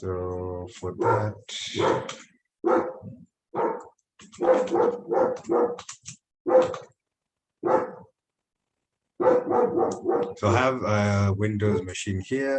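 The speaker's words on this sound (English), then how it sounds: "I'm sorry if you can hear a dog barking in the background." A dog barks repeatedly in the background of an indoor room, the short barks scattered through and between steady talking and partly masked by it.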